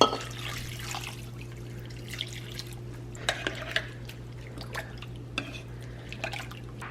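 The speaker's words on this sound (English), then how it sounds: "next all I'm gonna do is fill this up with water and then give it a good mix" Water pours and trickles into a crockpot for a meal, a soft continuous splash with a few brief drips and clinks under a steady low hum.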